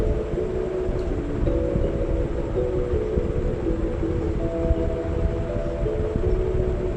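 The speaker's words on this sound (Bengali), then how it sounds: "এই যে দেখুন কাঁথি স্টেশন থেকে ট্রেন ছেড়ে দিয়েছে" A train pulls out of Kanthi station, giving a steady, close rumble with a sustained tonal hum running through the whole stretch and no talking over it.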